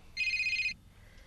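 A telephone rings once in a short, bright electronic trill lasting about half a second, close and clear above a quiet room hum, in a soap opera scene.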